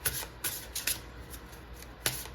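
Oracle cards from a crystal oracle deck being handled and shuffled, several soft papery riffles and slaps in quick bursts, close and quiet with no talking.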